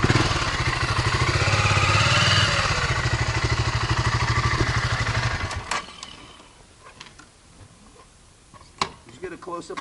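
A 2007 BMW G650 X-Challenge enduro motorcycle engine runs at a steady, close idle with a rhythmic thrum for about five seconds, then cuts out, leaving quieter mechanical clicks and faint background noise.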